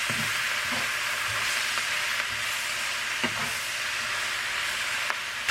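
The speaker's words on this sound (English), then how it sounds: "So now I'm going to add my shrimp back in" Shrimp is stirred into lo mein in a frying pan, giving a steady close sizzle with occasional soft scrapes and clanks of the utensil, no voices.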